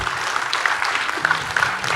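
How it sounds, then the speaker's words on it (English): An audience at a talk with Ishaan Khatter applauds a mother, a moderate, steady patter of many hands clapping with no voices over it. "Clap for the mom."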